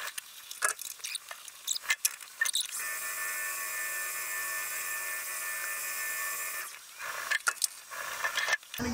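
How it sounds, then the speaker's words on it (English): A high-pitched whine of a center drill cutting metal on a PM 1440TL lathe runs steadily for a few seconds, bracketed by clicks and machine handling sounds. "Now we're going to get our center drill in this one."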